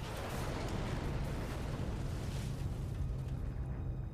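Huge explosion of 9,000 kilograms of Torpex explosive, a dense, sustained roaring rumble with heavy low-end energy, filling the whole stretch without letting up.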